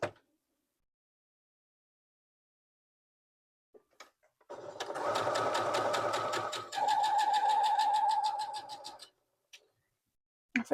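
A sewing machine stitches quilt pieces in a steady, rapid mechanical run of about four seconds, close and clear, starting and stopping with brief taps and no voices.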